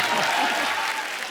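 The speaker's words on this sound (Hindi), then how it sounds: "उनको मैं यहां पे बुलाना चाहूंगा आप सबकी जोरदार तालियों के बीच" A studio audience bursts into loud, dense applause to welcome a singer, a short wash of clapping.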